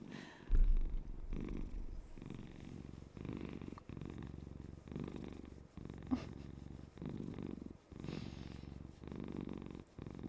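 A gray, dense-coated domestic cat purring steadily up close, the low rumbling cycles repeating in a regular rhythm with brief pauses between breaths, alone without talk.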